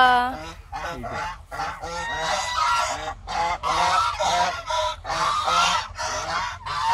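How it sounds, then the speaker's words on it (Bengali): Several domestic geese honk loudly and repeatedly, close by, their harsh calls overlapping in rapid bursts. "আর এদিকে রাজহাঁস খুলো দেখি"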